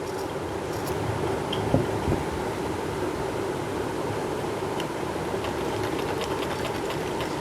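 A sewing machine stitches the back neck of a kameez, producing a continuous whirring drone close by, steady and unbroken for the whole stretch, with no speech.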